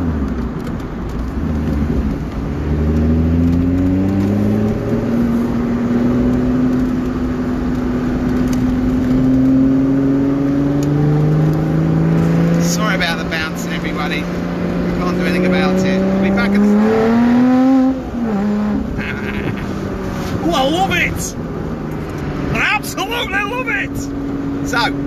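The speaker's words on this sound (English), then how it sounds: "We had a souped up Mercedes A1, the AMG thingy majiggies. Pretty ballistic little car." A souped-up Mercedes AMG car engine revs and pulls through rising gears, its pitch climbing repeatedly over sustained, loud running, with people talking over it.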